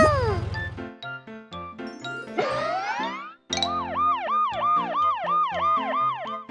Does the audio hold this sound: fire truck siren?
yes